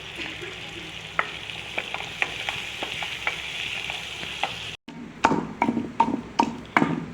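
A chili chutney being dry-roasted in a pan, turmeric and masala added, with a soft steady sizzle and a string of sharp scraping stirs that grow louder and closer after a short pause.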